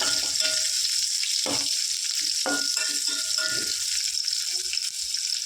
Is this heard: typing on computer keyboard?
no